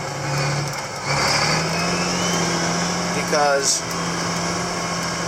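A John Deere 8530 tractor with a broken, non-dampening suspension drives about, its steady low engine drone running throughout with a short rattling burst near the end while a person talks over it.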